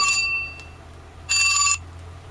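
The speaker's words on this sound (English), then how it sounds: "Here we go with the phone again." A telephone rings in a workshop, two short bursts of bright electronic ringing separated by a pause, with a quiet low hum underneath.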